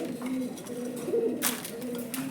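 Pigeons cooing at a pigeon farm where a breeding pair raises growing chicks, soft repeated low coos close by with a brief flutter partway through.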